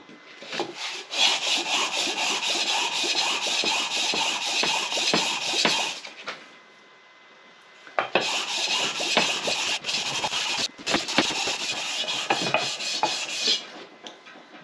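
Rhythmic back-and-forth scraping of 320 grit sandpaper worked over a flat C-channel during a 1960 John Deere 1010 backhoe rebuild, close and steady in two long runs separated by a short pause.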